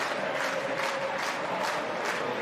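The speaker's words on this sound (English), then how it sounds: "now the Saints crowd, you're well used to hearing this, Dave. They're starting to find their voice" Northampton Saints supporters at a home rugby match roar together in a dense, steady crowd swell, with a few louder surges of voices rising out of the mass.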